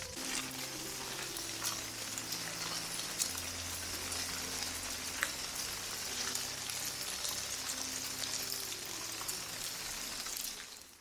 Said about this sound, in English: You might be able to hear the rain on the roof a little bit